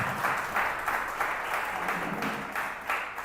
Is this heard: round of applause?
yes